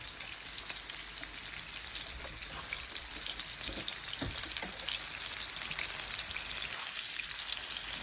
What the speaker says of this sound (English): So let it saute on each side for about 3 to 4 minutes